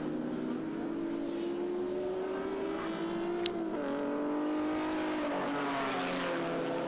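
Alfa Romeo race cars, including a GTV6 Turbo, racing at the Winton Festival of Speed, with a steady engine drone whose pitch climbs and dips as the cars accelerate and shift, heard from trackside with no talk.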